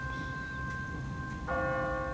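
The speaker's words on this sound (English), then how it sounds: "What kind of church bell goes off at 20 past the hour?" A church bell tolls in The Walking Dead video game, ringing one clear, sustained strike that hangs over quiet background ambience.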